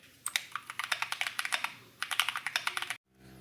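Rapid typing on an Akko ACR64 mechanical keyboard with PE foam under the PCB, a close, steady run of crisp keystroke clacks with a short pause midway, ending abruptly.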